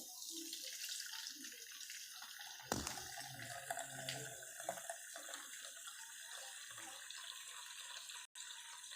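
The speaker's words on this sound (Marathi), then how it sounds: "आता तूप चाळणीने गाळून घ्यायचं आहे." Homemade ghee is strained through a sieve in a home kitchen, a soft continuous trickle and pour of liquid, close and faint, broken by a brief clink partway through.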